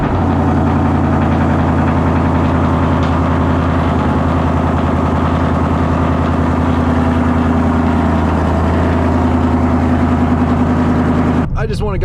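A deep supercharged V8 engine of a 2024 Ford Mustang GT (S650) with a Whipple supercharger rumbles loudly and steadily at idle throughout, a thick low drone that cuts off abruptly near the end.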